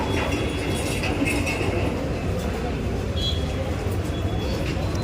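Busy Mumbai railway station platform with a local train, a steady broad rumble of rail and traffic noise filling the space, with crowd voices and faint announcements mixed in.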